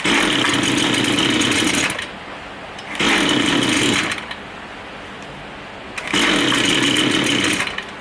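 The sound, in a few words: line trimmer engine running rough after carburetor adjustment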